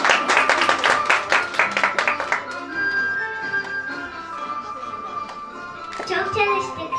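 An audience breaks into loud, dense applause with many overlapping claps, which then fade into a softer ringing musical tone as the clapping thins and a little scattered clapping returns near the end.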